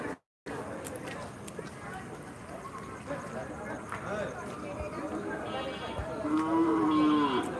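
Cattle lowing at a busy night cattle market at Postogola cremation ghat in Dhaka, Bangladesh: long, nasal moos rise over a dense crowd murmur and chatter, the loudest near the end.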